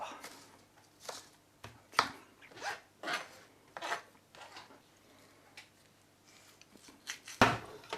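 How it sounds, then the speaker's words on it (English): A knife slicing onions on a board, a series of faint, fairly regular rasping cuts roughly once a second, ending in a sharper stroke. "slice the onions."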